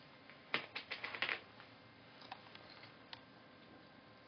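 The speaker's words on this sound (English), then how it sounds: "So I'm just going to cut that tape with scissors." A quick run of crisp snips as scissors cut a strip of double-sided tape, close and fairly quiet, followed by a few scattered lighter clicks.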